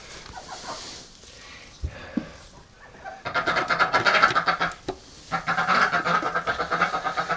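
Pekin ducks call among farmyard poultry, scattered quacks at first, then a dense run of rapid, loud, repeated calls close by, with a brief pause before the chatter resumes.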